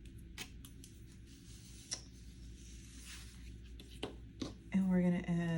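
Scissors snip planner paper trimmed with washi tape, producing a few short faint cutting clicks and rustles, followed by a voice speaking near the end.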